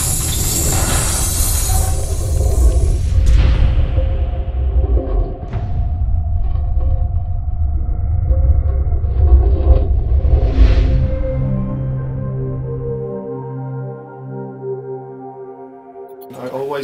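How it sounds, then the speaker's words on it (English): An ice-cracking sound effect drenched in heavy reverb and layered with deep sub bass. Sharp cracks smear into long, booming washes, then fade into sustained low tonal layers. "it's supposed to symbolise the blocks cracking inside the building."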